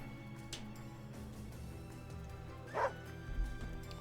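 A dog barks in the video game Wargroove, a short yip and bow-wow that rises once above a busy, layered game soundtrack. The barks are fairly brief and sit low in the mix.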